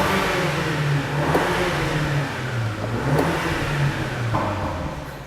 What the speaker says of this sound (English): Oh, the blow-off valve sound.